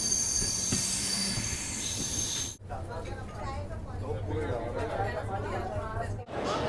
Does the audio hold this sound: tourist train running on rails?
yes